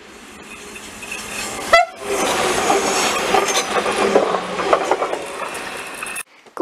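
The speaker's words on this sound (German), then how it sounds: "So, eine Baureihe 442." A class 442 electric multiple unit train rushes past at close range with loud rumbling and rail noise after a sharp horn toot, on a snow-covered line, then cuts off abruptly.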